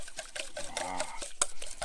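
Spiced herb oil is stirred briefly in a bowl, a soft wet scraping and swishing heard up close and alone for under two seconds.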